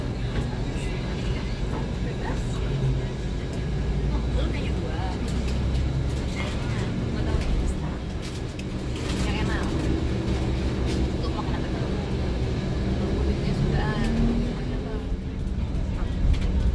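A bus pulling away and driving on the road between Jakarta and Bandung, a steady low engine rumble and road noise filling the cabin, with people talking throughout.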